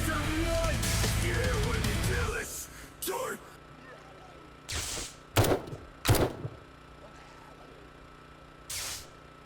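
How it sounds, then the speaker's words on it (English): Scattered pistol shots in the video game 7 Days to Die, a handful of sharp separate pops spread over several seconds, following a stretch of louder mixed noise at the start. "I could just kind of even sit here and pop them with the pistol"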